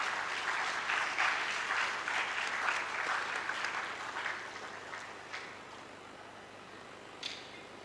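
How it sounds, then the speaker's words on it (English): An audience at a foundation day celebration gives alumni a warm round of applause, dense clapping that gradually thins out and tapers to a few scattered claps. "I would request everyone to give a huge round of applause for our alumni."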